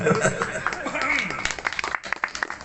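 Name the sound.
audience applause at a religious sermon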